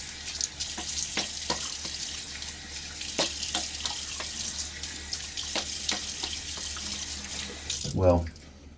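A tap runs steadily into a sink while a razor and face are rinsed after a wet shave with a Wolfman WR2 razor and Gillette Nacet blade, a constant close splash with brief knocks and a louder gurgle near the end.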